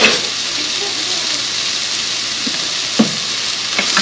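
Fresh garlic fries in a pan with a steady, close sizzle and hiss, broken by a few faint clicks of stirring and no voices.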